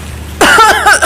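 A single short, loud cough from an adult demonstrating how to cover the mouth and nose, a sharp burst after a moment of quiet, very close.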